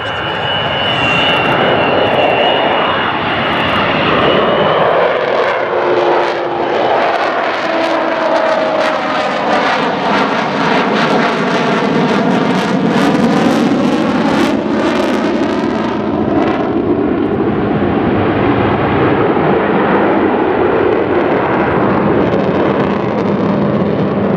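Avro Vulcan B2 bomber XH558 passing overhead at the Dunsfold Wings & Wheels airshow, a loud, sustained jet roar that swells and sweeps through a rising-falling Doppler pass before receding into a steady rumble, with no voices.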